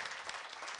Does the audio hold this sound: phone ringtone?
no